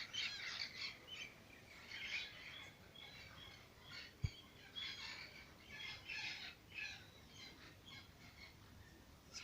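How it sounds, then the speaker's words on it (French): Parrots squawk repeatedly in short, harsh bursts, faint and somewhat distant, in a garden in French Guiana, with a single sharp knock partway through. "Vous entendez le bruit? C'est les perroquets en fait."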